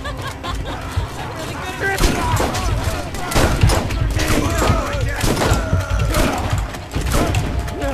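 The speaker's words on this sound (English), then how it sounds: "I'm gonna snipe with my shotgun." Repeated heavy shotgun blasts in the video game Borderlands, close-range shots in quick succession over a dense layer of game effects and background noise, with a person talking at times.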